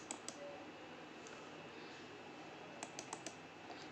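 A computer mouse clicks faintly at a desk over low room hum: two quick clicks early, one midway, then a cluster of four rapid clicks near the end.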